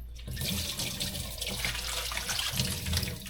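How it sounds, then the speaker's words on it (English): Water pours steadily into a bowl of salted cabbage being prepared for kimchi, a continuous close splashing rush with no talking. "I'm doing is putting a water inside this bowl so that it would sink the cabbage"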